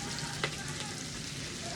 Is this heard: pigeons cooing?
no